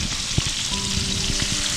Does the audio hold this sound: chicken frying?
yes